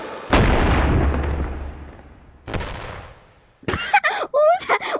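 Two booming explosions from a video game, a loud blast with a long decaying rumble followed by a second, fainter delayed blast, then excited voices talking over the end.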